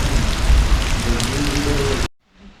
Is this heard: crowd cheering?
no